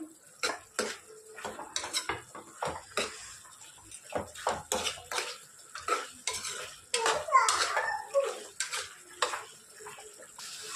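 A utensil scrapes and clanks against a pan, stirring ginger-garlic paste into frying chicken. The strokes come in a quick, uneven rhythm, close and clear, with a soft sizzle underneath.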